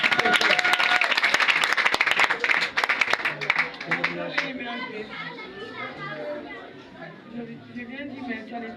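A church congregation claps and applauds in praise of Jesus, loud dense clapping over the first half, then fading into scattered claps and chatter with children's voices.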